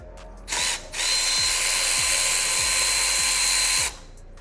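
A power tool whirs loudly in two bursts, a short one then a long steady run of about three seconds, backing out a sprocket cover bolt on a Kawasaki Eliminator motorcycle.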